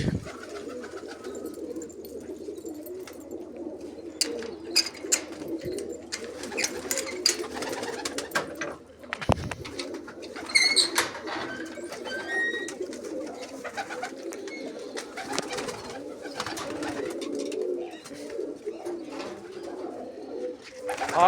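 Pigeons coo softly and repeatedly, low throaty calls overlapping at moderate distance, with occasional wing flutters and faint background noise.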